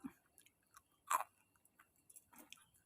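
Crunchy fried banana snack being chewed up close, a few quiet crisp bites and crunches spaced irregularly, with a sharper crunch in the middle, no talk.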